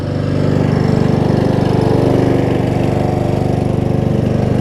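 A Craftsman riding lawn mower engine runs at a steady, loud idle, with its even low chugging pulse carrying through the whole stretch and no speech over it.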